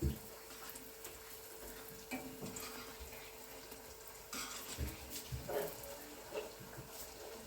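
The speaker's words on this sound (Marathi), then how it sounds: "हे बघा, जिलेबी तळण होत आहे." Jalebi frying in hot oil: a faint, steady bubbling sizzle with light scraping and splashy stirring sounds, close but quiet, no voices.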